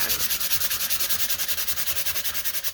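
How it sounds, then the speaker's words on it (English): Sandpaper rubbed quickly back and forth over a junk mail texture plate, a close, loud, even rasping with about a dozen strokes per second, steady and alone. "I'm going to come on this side and just sand."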